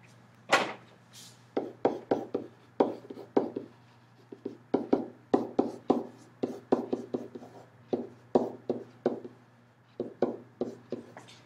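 A chemical equation written quickly by hand, a close run of short scratchy strokes and taps in quick bursts with brief pauses between them, over a low steady hum.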